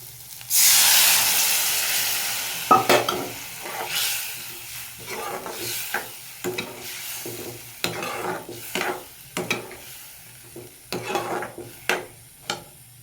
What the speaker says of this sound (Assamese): তৰপখিনি অকণমান ভাজি আছোঁ যাতে কেঁচা স্মেলটো যায়